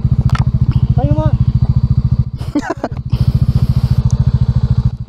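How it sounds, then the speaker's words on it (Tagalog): A motorcycle engine idles loudly up close with a steady low throbbing pulse, while people talk briefly over it. "Ang ingay na motor mo."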